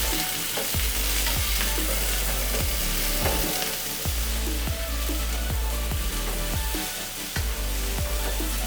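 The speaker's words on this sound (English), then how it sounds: "And then we're going to add our mushrooms back to the pan." Mushrooms and red vegetables sizzle in a hot pan in a steady frying hiss, broken by regular clacks and scrapes of stirring.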